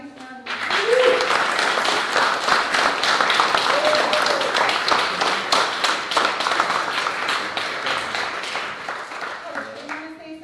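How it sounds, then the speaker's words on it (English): Audience at a school board meeting claps steadily in a round of applause lasting several seconds, dense and even, with a few voices faintly audible underneath. "I'll give them a nice round of applause."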